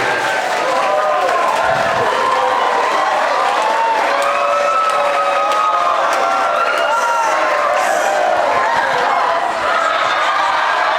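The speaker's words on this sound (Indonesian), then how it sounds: "Kasih tepuk tangan aja." A school audience at a computer-assembly presentation claps and cheers continuously, with crowd voices mixed in throughout.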